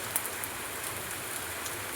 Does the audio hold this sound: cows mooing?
no